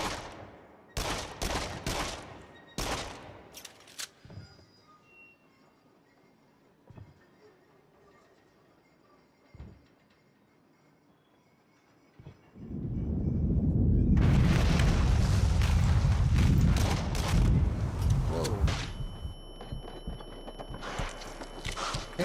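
Gunfire in the PSVR shooter Fracked: scattered sharp shots and booms early on, then a sustained loud barrage of dense rapid firing and explosions filling the second half.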